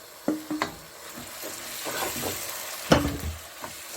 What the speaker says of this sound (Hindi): हल्का सा भूनने के बाद हम ये जो भरता हमने बैंगन का बना के रखा था ये डालेंगे